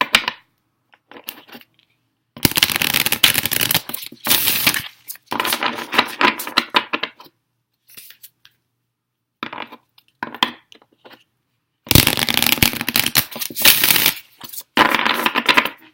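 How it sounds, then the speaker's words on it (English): Oracle cards from the Work Your Light deck being shuffled and pulled by hand, with bursts of papery riffling and rustling separated by quiet pauses, close and fairly loud, with no talking. "I'm going to go ahead and pull some cards from the Work Your Light Oracle"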